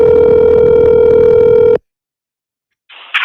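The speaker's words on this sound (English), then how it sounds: "Can you guys hear the ringing?" A telephone rings through the line during a call, one loud steady tonal burst of about two seconds, then silence before a faint noisy start of the next sound.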